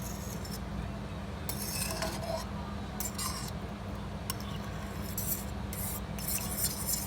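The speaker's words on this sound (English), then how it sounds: "we're going to stir until they're almost done" Eggs being stirred in a pan for truffle eggs with spinach, with intermittent scraping clinks of a utensil against the pan over a steady low background hum, fairly faint.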